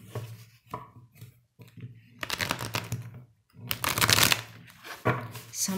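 Tarot cards are shuffled up close in quick riffling bursts, several rapid flurries of papery slapping separated by short pauses.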